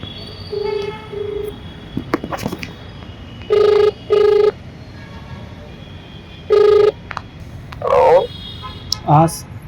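A phone rings through a speakerphone in two clear bursts, with faint chirpy tones and background chatter around it.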